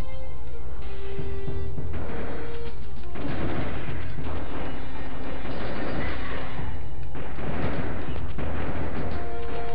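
Super shotgun blasts in the PS1 game Duke Nukem: Time To Kill, heavy booming shots in quick succession against enemies, loud and close, layered with crashing impacts and game music, no talk.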